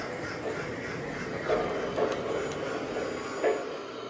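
A Lionel LionChief toy train runs along its rails, wheels slipping slightly, making a steady whirring hum with a few soft clicks at intervals from the track, mid-distance and alone.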